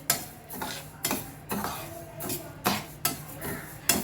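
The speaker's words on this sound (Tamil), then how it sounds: "அடுப்பை ஆன் பண்ணிவிட்டு வெறும் வானிலையில் வந்து இந்த ரைஸை நல்லா வறுத்து எடுத்துக்கணும்" Rice dry-roasted in an empty pan for modak, stirred with a utensil that scrapes and clinks against the metal at an irregular rhythm, close and fairly quiet, with no talk.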